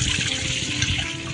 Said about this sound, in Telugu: సో ఈ పైన వాటర్ మొత్తం వేరే గిన్నెలో వేసుకోవాలి